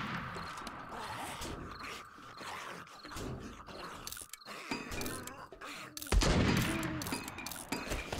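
Gunfire from a weapon in the survival game 7 Days to Die, a run of sharp shots scattered over the clip among game noise and groans, with a louder burst toward the end.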